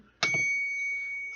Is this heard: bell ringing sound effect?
yes